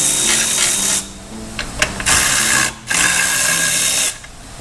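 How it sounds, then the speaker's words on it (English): A power driver spins loose stubby T40 Torx bolts during an SDR Pro XP2 car door kit install, in several bursts of whirring with short pauses between them, close and fairly loud, with no talking. "Easiest way I find is there's a bunch of T40s, loosen them up."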